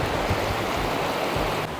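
A small river runs beside a little hillside temple near Palasdari, a steady close rush of flowing water with no one speaking.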